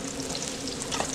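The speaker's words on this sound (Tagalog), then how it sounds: "papupulayin muna natin bawang sibuyas gaya ng ginagawa natin" Garlic and onion sauté in a large pan of oil for a big batch of picadillo, a steady close sizzle and crackle with faint stirring, no voices.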